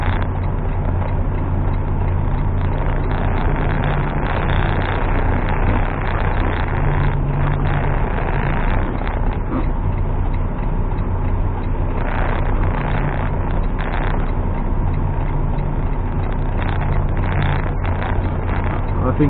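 Diesel engine of a semi truck idling and rumbling steadily nearby while it maneuvers to back a trailer into a tight spot between two other trailers; a low continuous drone fills the whole stretch, and someone talks over it.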